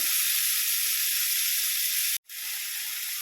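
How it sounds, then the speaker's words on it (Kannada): Spinach and green chillies fry in a pan with a loud, dense, close hiss of sizzling that runs steadily, cutting out for a moment before resuming. "ಮತ್ತು ಪಾಲಕ್ನ ಹಾಕಿ ಸ್ವಲ್ಪ ಫ್ರೈ ಮಾಡಿದ್ರೆ ಸಾಕು"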